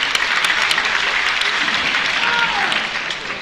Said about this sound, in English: give her a clap for texting